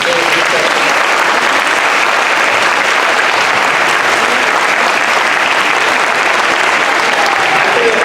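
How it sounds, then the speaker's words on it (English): After a Grade 3 school musical, the audience gives the young performers another round of applause, a loud, unbroken roar of many hands clapping that holds steady throughout, with voices mixed in. "Let's give them one more round of applause"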